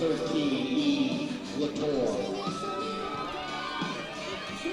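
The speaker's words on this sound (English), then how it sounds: "getting a big round of applause" Crowd at a softball game at Worcester State University, cheering and clapping loudly for a batter stepping to the plate, with children shouting among the sustained noise and a voice talking over it.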